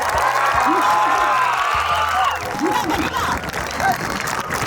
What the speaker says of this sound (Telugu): అంత గట్టిగా చప్పట్లు కొట్టాలి